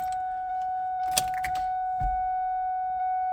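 Car keys for an SVT Cobra jangle in a brief close rattle lasting about half a second, over a steady electronic tone that holds throughout, followed by a soft thump.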